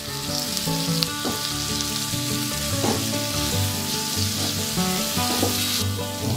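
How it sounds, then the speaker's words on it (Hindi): Fenugreek leaves being stir-fried with spices in a pan for methi matar malai, a steady close sizzle with occasional soft scrapes of stirring, no talk. "तो मेथी को भी मैंने चलाते हुए भून लिया है।"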